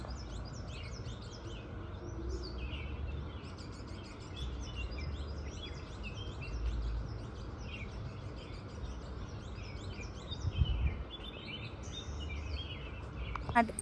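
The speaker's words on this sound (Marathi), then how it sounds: "हा मिनटं काहीच बोलणार नाही, तुम्ही फक्त पक्ष्यांचा आवाज ऐका" Many small birds chirping and tweeting continuously at a moderate distance, a busy layered chorus over low background rumble, with no talking.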